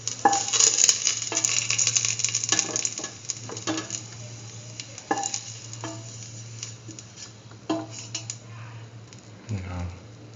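Raisins frying in a pan with clinks and stirring scrapes against the pan over a soft sizzle, irregular taps scattered throughout, with a low steady hum beneath.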